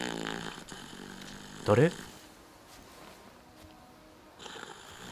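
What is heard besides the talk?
drunk character snoring in the video game Chernobylite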